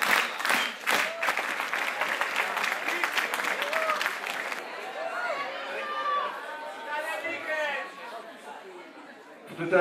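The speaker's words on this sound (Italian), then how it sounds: "Applaudite molto dopo questi 45 minuti circa." Audience clapping at an outdoor winter concert at Passo Tonale Ice Music, a dense burst of applause in the first half that thins into scattered claps beneath crowd chatter and whistles.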